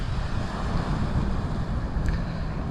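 Strong wind on Fuerteventura in the Canary Islands buffets the microphone outdoors, making a loud, steady low rumble that runs unbroken through the whole stretch with no voices.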